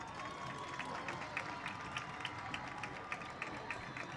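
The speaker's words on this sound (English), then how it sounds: "Let's give our homecoming court another round of applause." A crowd at a high school football game applauds the homecoming court, a faint, steady patter of clapping with sharper individual claps standing out, heard from a distance in an open stadium.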